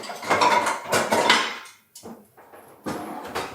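A saucepan bangs down on meat being flattened for cordon bleu, a few loud, close metallic thumps with clatter, then a short pause and quieter knocks.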